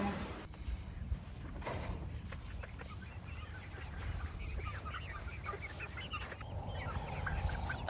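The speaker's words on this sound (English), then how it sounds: "These are kosher kings. Now, there's several in this chicken tractor." Kosher king chickens cluck and chatter inside a chicken tractor on a farm during evening chores, with scattered calls of several birds over steady background noise. A faint voice may be present.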